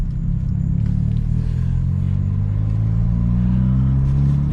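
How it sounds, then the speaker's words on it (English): A Hyundai Elantra N's 4-cylinder engine drones steadily from inside the car while driving, a loud low rumble with a rising, revving tone and no talking. "this is probably the best sounding 4-cylinder car I have ever driven."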